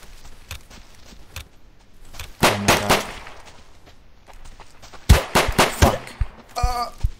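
Gunfire in the survival shooter Deadside comes as scattered single shots followed by two loud clusters of rapid, close shots, with quieter footsteps and movement sounds in between.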